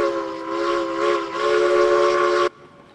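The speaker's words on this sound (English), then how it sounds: "And I love that whistle." A steam goods engine in the train game Railroads Online sounds its whistle in one loud, sustained chord-like blast with a brief dip in the middle, ending sharply after about two and a half seconds.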